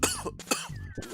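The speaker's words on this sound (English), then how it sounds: "Ooh, I gotta edit that cough out." A single close, dry cough, rough and raspy, from a man with a sore throat during a gaming commentary, followed by a few smaller throat-clearing bursts.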